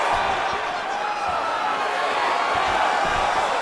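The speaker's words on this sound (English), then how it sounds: "The crowd's going crazy because they appreciate high-level mixed martial arts" An arena crowd in EA Sports UFC 5 roars in a dense, continuous wash of cheering and noise at a Michael Chandler vs. Beneil Dariush bout, with faint thuds underneath.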